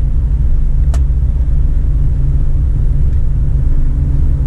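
A truck engine in twelfth gear holds a steady low rumble at about 1,000 rpm while descending the Serra do São Luiz do Purunã mountain road in Paraná, loud and continuous with a faint click.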